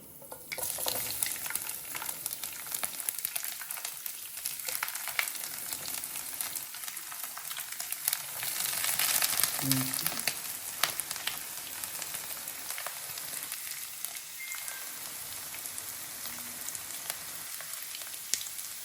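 Fenugreek seeds and garlic fry in hot oil for mango pickle, giving a soft continuous sizzle and crackle with a few brief stirring sounds, close and fairly quiet throughout.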